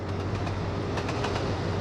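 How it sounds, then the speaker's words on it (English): A train passing in the Trainz Plus simulator, with continuous heavy rumble and rhythmic clickety-clack of wheels over rail joints, loud and close throughout. "And away we go. That was the train."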